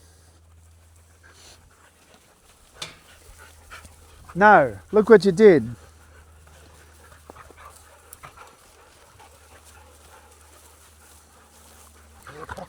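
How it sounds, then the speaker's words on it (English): Dutch Shepherd dogs indoors, a couple of short whimpering and panting bursts standing out near the middle, with a voice speaking briefly and faint rustling around them. "Got a fair few dogs here."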